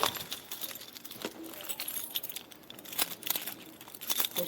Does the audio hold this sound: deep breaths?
no